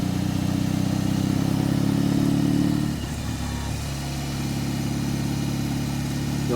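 BMW R18 Transcontinental First Edition motorcycle riding a winding road, its big engine giving a steady low rumble that eases off partway through, then settles into a quieter drone.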